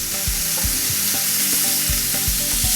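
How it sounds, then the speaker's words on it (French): Thin pieces of marinated beef searing in a hot pan, a loud continuous sizzle with repeated low thumps and scrapes of stirring, no talking. "On va saisir les morceaux de bœuf qui sont marinés. Donc une cuisson très très rapide"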